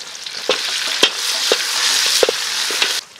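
Onions and tomatoes sauté in a hot pan with a dense, close sizzle, broken by several sharp spatula clacks and scrapes against the pan, ending abruptly; no one speaks.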